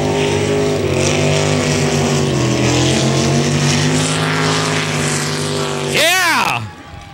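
A racing motorboat engine on a race course drones loudly and steadily, then rises sharply in pitch as it roars past up close and fades.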